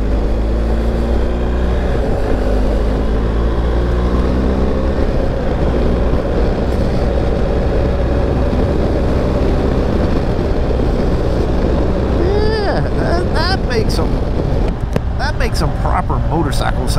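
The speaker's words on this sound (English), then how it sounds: "Motorcycle sounds with the windshield down, don't you think?" A motorcycle ridden with the windshield down, a low steady engine drone under heavy wind rush through a wooded hillside, with a voice speaking briefly near the end.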